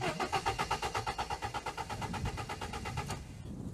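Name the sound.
attempt to start a compact car engine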